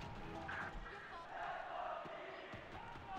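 An esports arena crowd roars and murmurs steadily through a GE versus FURIA match on the map Breeze, a dense, continuous wash of voices, with commentators talking over it.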